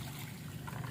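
Water trickles and splashes softly into a potted plant's soil, a quiet continuous pouring sound with a faint wet hiss.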